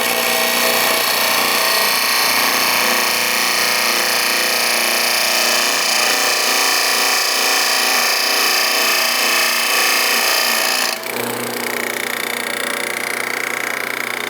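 A bracket for a custom brake pedal assembly on a 1966 GMC being ground with a power tool, a loud, steady, harsh grinding roar running continuously, with a brief dip and shift in tone near the end.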